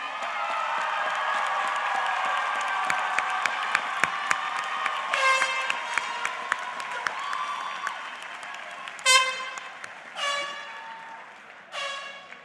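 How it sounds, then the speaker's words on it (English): A graduating class at a university commencement ceremony on St. Thomas claps and cheers for its supporters. Steady applause builds, and loud air horn blasts punctuate it near the end. "face the directions of your supporters and cheer for them, the real MVPs."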